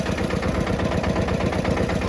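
A tractor engine idling nearby, a steady, dense mechanical rumble with an even low-pitched throb that never changes pace, loud and alone without talk.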